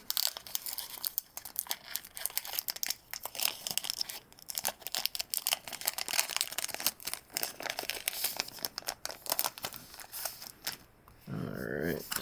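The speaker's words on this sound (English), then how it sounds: "Ooh, tore it right on the front." A Pokémon card pack, one from a Poke Haul and Shining Fates Pikachu V box, is torn open near the mic with a long crinkling, ripping rustle of foil, and a voice speaks briefly over it.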